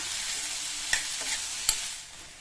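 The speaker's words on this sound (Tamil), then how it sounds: "நல்லா ஒரு 2 நிமிஷத்துக்கு ஹை ஃப்ளேமில் வச்சு வதக்கிக்கோங்க" Onions sautéed over a high flame, a soft continuous sizzle with two brief scraping stir strokes close by, no voices.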